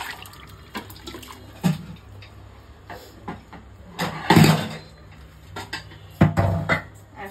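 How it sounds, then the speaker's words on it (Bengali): Curry poured from a pan into a pressure cooker, a few wet splashing slops with metal clatter from the pot, close up over a low hum. "এখন আমি প্রেসার কুকারে ঢেলে ফেলছি"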